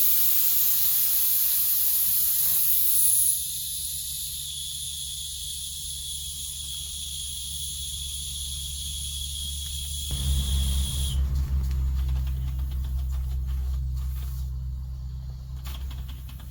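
A small steam engine hisses steadily with a high sustained whistle tone, then the whistle cuts off and a rougher, louder spray of escaping steam and low rumble takes over, close by, with no talking.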